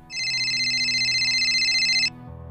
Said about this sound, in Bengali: দিলীপ বাবুর পকেটে থাকা মোবাইলটা বেজে ওঠে